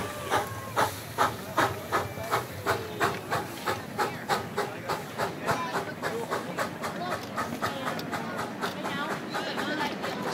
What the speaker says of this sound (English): Pulling a pretty long train today. A dozen cars and a caboose.